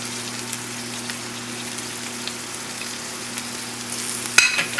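Green peppers added to potatoes frying for hash browns, a steady low crackling sizzle like light rain, close and even, with a hum underneath and a brief clatter near the end, no talking.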